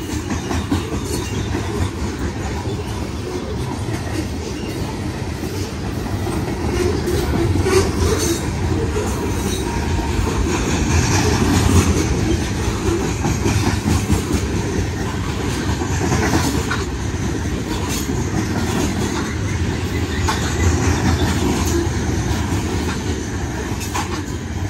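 A BNSF freight train led by locomotive #5832, with two distributed-power ACe units, rolls past while braking, a loud, continuous heavy rumble with grinding metallic texture that swells midway and holds steady.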